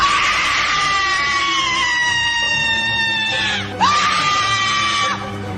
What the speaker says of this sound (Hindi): वो जोर जोर से नीरज के कानों में चीखने चिल्लाने लगी।